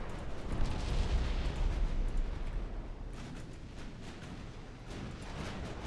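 Battleship main guns firing in the naval strategy game Ultimate Admiral Dreadnoughts, a continuous rumbling barrage of heavy booms and rolling blasts, loud and dense throughout with brief sharper reports breaking through.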